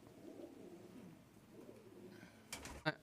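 A fancy pigeon of the British-bred Felicaser tumbler variety coos softly in low, rolling phrases nearby, followed by a brief burst of fluttering and a sharp tap at the end.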